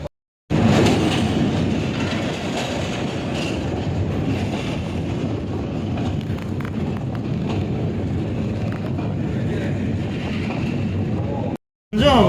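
A passenger train runs along the rails on a morning journey toward Sasan Gir, producing a loud, steady rumble with faint rhythmic clatter and wind buffeting the microphone, continuous throughout and cut briefly at the very end.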